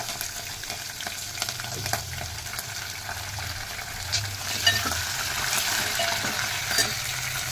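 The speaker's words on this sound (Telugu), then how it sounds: "ఇవి కొద్దిగా ఫ్రై కావాలి. కరివేపాకు," A tempering of green chillies and curry leaves fries in hot oil for mango pulihora, a continuous close sizzle with sharp pops and crackles and occasional stirring scrapes, steady throughout with no talking.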